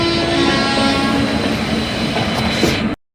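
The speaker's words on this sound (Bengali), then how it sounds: "আর আমাদের ট্রেনের সাথে সাথেই প্রবেশ করছে হাওড়া স্টেশনে, হাওড়া রাধিকাপুর ইন্টারসিটি এক্সপ্রেস।" A train arriving at Howrah station alongside the Howrah–Radhikapur Intercity Express, a loud close rumble of rolling wagons with a sustained horn tone and faint wheel clatter, ending suddenly.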